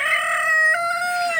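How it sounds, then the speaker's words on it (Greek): A white speckled rooster crows close by, one long, loud, sustained call with no talking. "Σιγά το κοκόρι, δείτε το."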